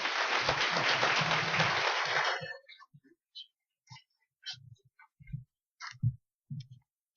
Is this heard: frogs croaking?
no